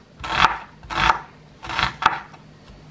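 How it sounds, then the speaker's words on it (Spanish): A knife cuts a vegetable into half-moon slices on a board, making four separate rasping strokes that are close and fairly crisp, spaced irregularly, with quiet pauses between them. "Y este lo vamos a cortar así en medias lunas"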